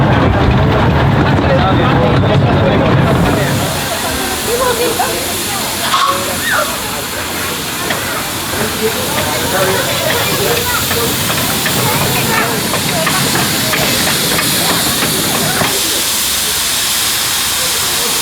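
A loud, continuous hiss of escaping steam from a miniature steam train fills the air, with a burst at the start settling into a steady rushing noise, and voices underneath.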